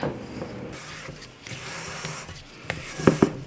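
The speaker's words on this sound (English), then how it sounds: "Get all this off of here and give your bowl a good scrape." A spatula scrapes gluten-free bread batter from the sides and bottom of a mixing bowl, giving soft rubbing strokes close up that end in a couple of sharper knocks.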